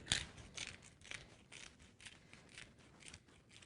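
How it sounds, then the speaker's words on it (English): A hand grinder cracks garlic salt in a home kitchen with a quick series of faint, dry ratcheting crunches, about seven rhythmic turns, close and quiet. "Now I'll add a little garlic salt. And this grinder."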